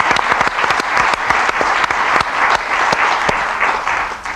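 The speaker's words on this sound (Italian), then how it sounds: "Facciamo un bel applauso." Loud, close applause from an audience at a film presentation, dense rapid clapping that carries on steadily throughout.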